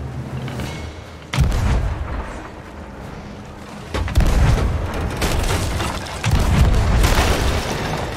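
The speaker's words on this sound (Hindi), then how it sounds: "अरे गोले आ रहे हैं उधर से, फोड़ दी भाई।" Ship cannons fire in the pirate game Sea of Thieves, several heavy booms with rumbling tails, loud and close, followed by a dense stretch of crackling impacts and blasts.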